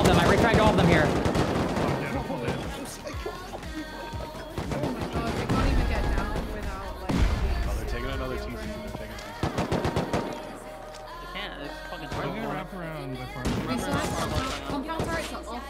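Gunfire in the survival game Rust: rapid automatic bursts and scattered single shots, loud and dense throughout, with a voice talking over parts of it.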